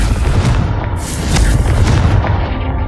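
A Confringo explosion spell in the video game Hogwarts Legacy: a loud, sustained booming roar of blasts and crackling debris filling three seconds without pause.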